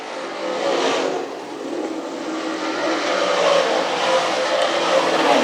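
Modified race cars roar around the oval at Can Am Speedway, a loud continuous engine wash that swells and fades slightly as the pack moves down the backstretch, with no talk.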